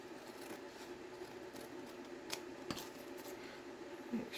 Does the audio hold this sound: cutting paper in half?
yes